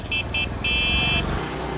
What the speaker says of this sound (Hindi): ये है इसका हॉर्न